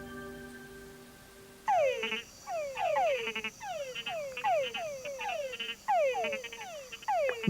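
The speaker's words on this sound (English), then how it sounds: "Mud puddle frogs sound their mating call." Mud puddle frogs give their mating call, a rapid series of loud, close, repeated croaking bursts in quick rhythm that starts after a quiet moment and keeps going with no talk.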